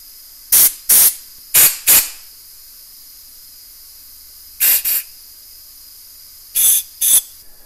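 Compressed air blasts out through the ports of an Ariens mower engine in short sharp hissing bursts: a quick run of four, then a pair, then another pair, with quiet gaps between.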